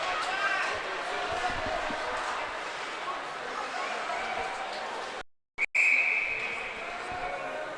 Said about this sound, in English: Another whistle here.